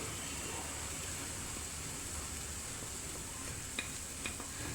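Curry leaves, grated coconut and carrot sizzle softly in a frying pan for upma, a faint steady fry with light stirring scrapes throughout.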